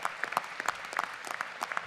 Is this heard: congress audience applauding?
yes